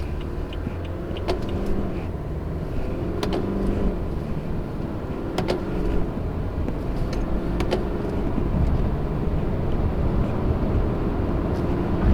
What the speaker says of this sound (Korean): 지금처럼 이렇게 1단에서 2단